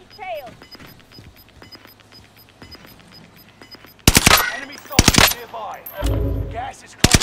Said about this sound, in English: Gunshots down there.